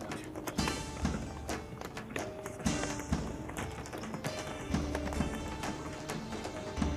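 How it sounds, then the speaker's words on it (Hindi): Horse hooves clop in a quick, irregular rhythm of sharp taps and thuds, fairly close and prominent, as a rider approaches in a dubbed Turkish film scene, with occasional louder hits and no talking over them. "अपने घोड़े से नीचे उतरो"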